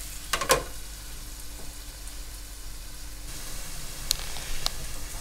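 Chopped onion with salt softening in a pan over moderate heat gives a low, steady sizzle, faint and even throughout, with a brief clatter near the start.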